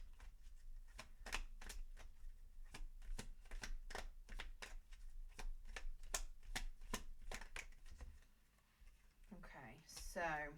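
Tarot cards are shuffled and drawn, giving a rapid series of crisp paper flicks and snaps, close and quiet, ending with a brief burst of speech.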